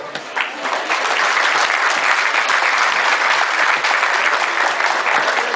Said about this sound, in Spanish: Fuerte el aplauso para todos los integrantes de este presidio que hoy nos acompaña